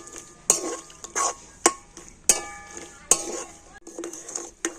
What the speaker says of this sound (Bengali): আর এবার আমি নাড়াচাড়া করে তো গুড়টাকে ভালো করে গলিয়ে নেব